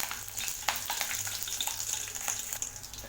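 Chilies and spices such as fenugreek and cumin crackle and fry in hot oil for a chow chow sambar tempering, a steady close sizzle with scattered sharp pops and no voices.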